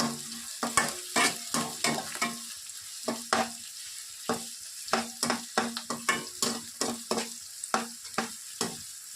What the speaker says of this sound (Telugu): ఆనియన్స్ని బాగా గోల్డెన్ కలర్లో వచ్చేంత వరకు ఫ్రై చేసుకోవాలి